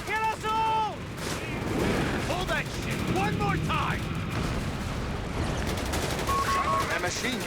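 Dense battlefield gunfire in a Company of Heroes 3 1v1 match, with machine gun bursts and explosions rumbling continuously beneath game voice lines and a commentator talking.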